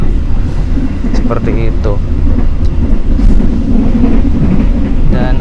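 Steady low rumble of a business-class passenger train, the Baturraden Ekspress, riding the rails between Purwokerto and Bandung, heard from inside the carriage while someone talks over it throughout.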